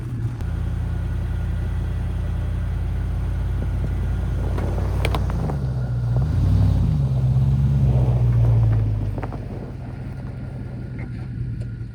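Engine of a van stuck in snow in winter, a loud, steady low rumble close by, rising in a revving swell as it pulls out onto recovery boards, then settling back to idle.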